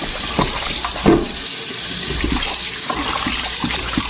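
Tap water runs steadily into a sink for washing chicken, with splashing and occasional clatter close by.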